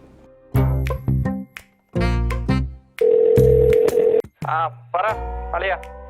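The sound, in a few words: telephone dialing tones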